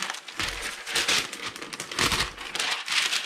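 Close, continuous crinkling and rustling of paper being peeled off a site plan drawing, with a few louder surges, no voices.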